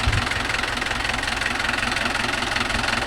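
A Mahindra Arjun Novo 605 tractor engine runs steadily at close range, a loud, even diesel chug with a rapid knocking pulse and no voices.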